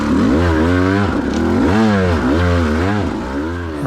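A KTM 200 dirt bike engine climbs a hill, its raspy two-stroke note rising and falling in repeated revving surges, loud and close throughout.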